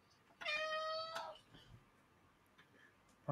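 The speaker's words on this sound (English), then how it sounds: "You stood on that cat's tail." A cat lets out one long, loud, strained meow close by after its tail is stepped on, then quiet room noise follows.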